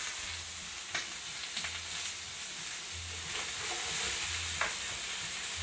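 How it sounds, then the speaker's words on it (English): Shrimp sizzling in a hot sauté pan after tequila is poured in, a steady bright hiss with stirring scrapes and a low rhythmic rumble underneath. "we're going to cool our pan down with some tequila."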